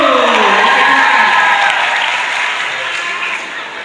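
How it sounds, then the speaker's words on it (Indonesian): Senior high school students visiting a museum in Medan applaud in a lively burst of clapping with some cheering. A voice speaks over the start, and the applause fades gradually toward the end. "tepuk tangan dulu"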